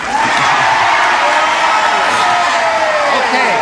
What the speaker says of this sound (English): we thank you for your cooperation, one and all, for your brisk applause